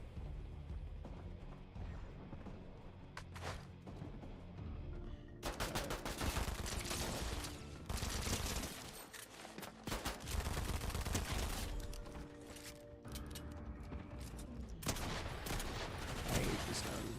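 Video game gunfire crackles in dense, rapid automatic bursts with mechanical clatter and impacts, continuous and fairly loud throughout, briefly easing between volleys.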